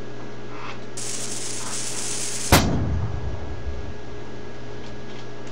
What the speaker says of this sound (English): select a key that you want to fire the cannon